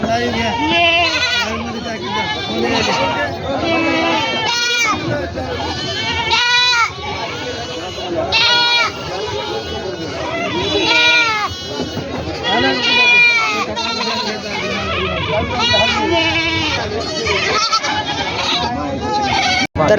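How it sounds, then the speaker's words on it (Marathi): Many goats, a local village breed, bleat over and over at a crowded, noisy livestock market in Vasmat, with people talking loudly throughout among the animals. "गावरान शेळी आपल्या वसमत बाजारामध्ये आलेली आहे"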